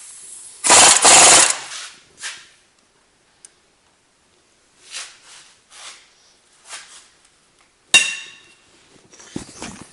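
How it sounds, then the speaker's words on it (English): Bursts of an impact tool rattling loose the hub-to-spindle bolts on a Chevy Suburban, loud close hammering runs separated by quieter clicks and pauses. "take the 3 bolts that actually hold the hub to the spindle support"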